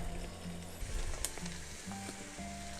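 Fried chicken pieces go back into hot masala in a karahi over high heat, a quiet, continuous sizzle with small crackles and a few soft clinks, no voices.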